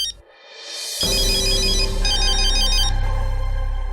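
A phone ringtone starts after a brief quiet moment and keeps ringing loudly and steadily, with no voices.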